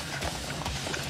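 Horse hooves pound during a horseback goat-dragging game, a dense, rapid drumming of close hoofbeats amid noisy outdoor commotion.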